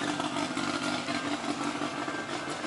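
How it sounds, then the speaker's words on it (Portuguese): A race car fitted with an Opala four-cylinder engine runs at a steady idle in the Velopark pit area, a continuous rough mechanical drone, fairly faint and even, with no voices over it. "Motor Opala 4 cilindros"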